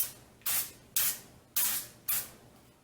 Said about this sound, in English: with the coconut oil spray.